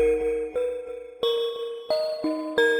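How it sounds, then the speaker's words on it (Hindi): Old servants' call bells ring in a haunted house. Several clear metallic dings strike one after another at an uneven pace, each one ringing on and fading, with no voices. "नौकरों वाली घंटियां फिर बज रही हैं, जबकि उनके तार टूटे हुए हैं।"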